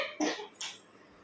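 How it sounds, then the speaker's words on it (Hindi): An eight-month-old baby coughs twice at home, two short, soft, airy coughs close together in an otherwise quiet room. "इसको खांसी आज है"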